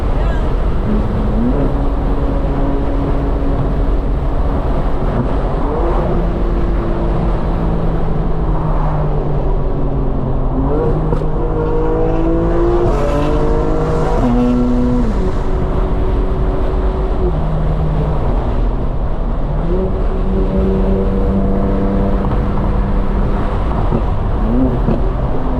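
A tuned 900hp 2025 BMW M4 Competition xDrive drives on the road, its engine note rising and falling through gear changes, loud and continuous throughout.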